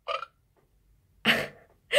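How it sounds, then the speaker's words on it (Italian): Three short, loud electronic burp sounds from a toy, separated by silence, one brief and two fuller and throatier. "il rutto"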